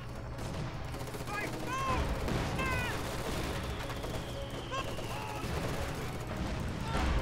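Battle sounds in the video game Company of Heroes 2 as mortars land: a steady din of gunfire with heavier booming impacts, under intermittent voices and chirping tones.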